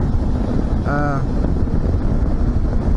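Wind roar while riding a 2007 Suzuki V-Strom motorcycle, a loud, constant buffeting rumble at the microphone with a short tonal whine mid-clip, no pause throughout.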